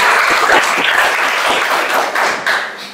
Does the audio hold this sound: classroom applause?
yes